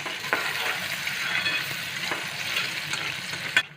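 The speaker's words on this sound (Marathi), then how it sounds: "कांदा चांगला ब्राऊन कलर येईपर्यंत भाजून घेऊ।" Onions frying in oil with green chillies and fennel seeds for a cauliflower sabji, a steady close sizzle with occasional light stirring scrapes and a sharper clack near the end, no voices.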